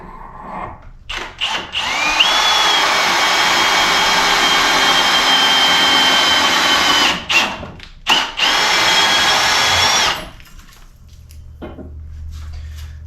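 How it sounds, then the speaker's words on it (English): A power drill with an auger bit bores a hole for a floating shelf, the loud, steady whine running several seconds, briefly stopping and restarting, then cutting off. "But nice thing about these auger bits is they pull straight. So once you have your hole started, it'll pretty much follow that."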